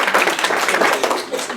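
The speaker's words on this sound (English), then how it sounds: "If you want to clap, that's" An audience claps at a live book discussion event, a short stretch of dense, steady applause with no pause.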